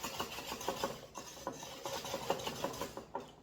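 Blueberry vanilla bread batter is stirred in a bowl with a steady rhythm of soft scraping and thudding strokes, close and fairly quiet, with no talking.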